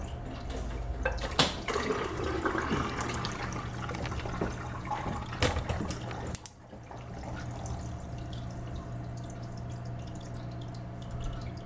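Water and air bubbles churn in an aquarium sump just after it starts up with an air wand underneath, a continuous trickling, bubbling flow with occasional drips and clicks that briefly dips before resuming steadily.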